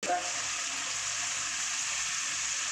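Onion, garlic and ginger paste for mutton kosa fries in a pan with a steady, bright sizzle that starts with a quick hiss and stays even and close throughout.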